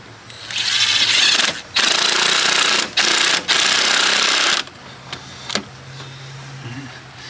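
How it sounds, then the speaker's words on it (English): A power tool buzzes in several loud, close bursts while tightening a turbo hose clamp on an Audi A4 with CTS turbo hoses, followed by a few faint clicks and a low hum. "go ahead and tighten up your clamp."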